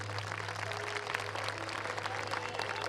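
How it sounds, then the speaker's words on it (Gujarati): Crowd applause after a dance performance at a school cultural programme, a fairly faint, dense patter of clapping that carries on evenly throughout, heard from a distance over a steady hum. "ખૂબ જ સરસ ડાન્સ માટે જોરદાર તાળીઓ થઈ જાય"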